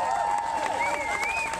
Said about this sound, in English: Please give her first a big round of applause first.